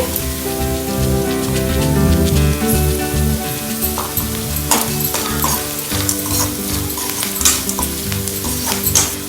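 Bitter melon pieces fry loudly in a pan in a close, dense sizzle, with repeated scraping and clattering strokes of stirring throughout and no talk.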